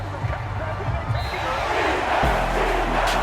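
Home crowd in the Madden NFL 23 video game, a broad stadium roar of applause and cheering rising and holding steady, with a few thumping hits and a commentator's voice over it.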